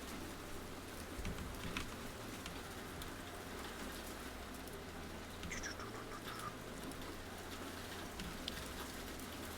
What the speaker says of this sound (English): Now, I enjoy the sound of rain. Please tell me if that is too loud, and I will close my window.